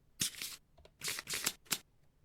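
Playing cards get shuffled back into a deck during a Kingdom Death tabletop game: quick, crisp riffling bursts in three or four close, quiet flurries separated by short pauses.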